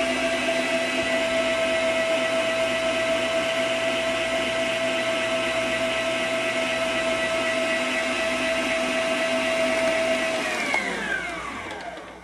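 Electric stand mixer whipping cream, a loud, steady motor whine with a sustained tone running for about ten seconds, then winding down as it is switched off.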